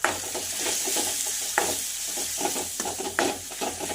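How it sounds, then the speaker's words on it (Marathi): Red chilli powder, turmeric and asafoetida fry in oil, giving a close sizzle broken by repeated scraping stirs and clicks of a spoon in the pan, with faint background music and no talk. "लाल तिखट एक चम्मच हळदी पावडर अर्धा चम्मच आणि हिंग घेतलेला आहे मी पाव चम्मच हे जिन्नस आपल्याला छानपैकी असे फ्राय करून घ्यायचे आहे"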